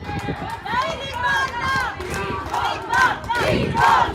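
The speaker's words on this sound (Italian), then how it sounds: "Anche il tifo del pubblico di casa sembra molto caldo e presente con i propri giocatori" Home supporters at an Under 14 youth football match cheer and shout in rising bursts, a lively crowd of voices with chanting swells, fairly close and continuous.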